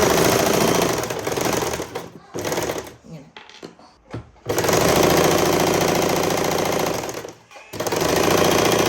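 A sewing machine stitching the side seams of a child's pleated petticoat, loud rapid mechanical chattering in long close bursts broken by short pauses.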